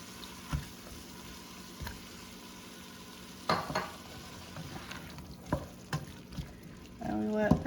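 Diced tomatoes cooking in a pot of chicken soup, a faint simmer punctuated by scattered spoon knocks and stirs, with louder scraping near the end.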